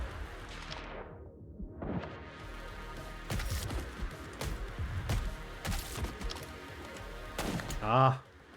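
Gunfire in the side-scrolling action game Replaced: several sharp bursts and thuds scattered over a low rumbling game soundtrack, with a brief synthetic tonal chirp near the end.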